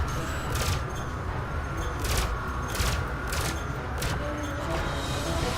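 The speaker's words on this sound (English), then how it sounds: "There are about 4 ships who all open fire on me." Spaceship multi-cannons fire in Elite: Dangerous as several ships attack a Sidewinder, a steady run of sharp, evenly spaced bursts over a constant low rumble of combat.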